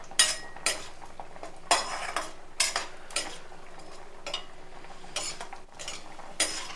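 Cashews fried in a pan for egg and cashew curry, stirred with a metal spoon that clinks and scrapes against the pan in repeated bursts over a faint, steady sizzle, close up with no talking.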